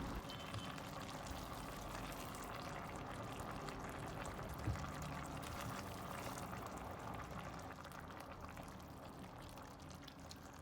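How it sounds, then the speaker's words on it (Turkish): Boiled water is poured from a glass into a pot of okra being cooked for preserving. The faint, continuous pour and gentle bubbling run steadily without any voices. "Yemeğime 3 su bardağı da kaynamış su ekliyorum."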